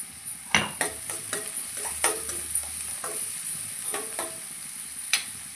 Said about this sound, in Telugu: 2-3 పచ్చిమిర్చి ఇవి కూడా వేసుకొని ఒకసారి కలుపుకుందాం.